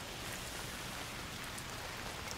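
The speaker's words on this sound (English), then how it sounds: "It's because it's raining." Steady, dense patter of rain in the video game A Plague Tale: Requiem, with a constant hissing wash, fairly quiet and unbroken, with no voices.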